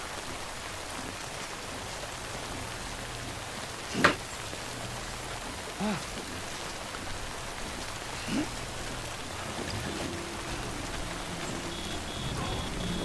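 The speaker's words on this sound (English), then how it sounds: "I don't think this rain's gonna stop." Steady rain falls in the video game Death Stranding, a constant soft hiss with a few brief louder ticks or thumps, quiet and continuous throughout.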